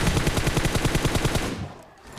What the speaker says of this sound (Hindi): मैंने उसको फायरिंग कर दी